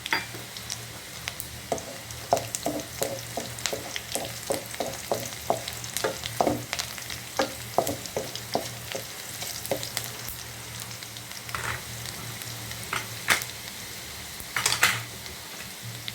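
Panch phoron spices crackle in hot oil in a frying pan while a spatula stirs, with steady sizzling broken by a run of quick, regular scraping taps and a few louder knocks.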